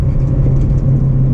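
Inside an Acura RSX Base driven in manual mode, a downshift brings a steady, loud, mid-pitched engine drone and low road rumble that fill the cabin continuously, with no voices over them.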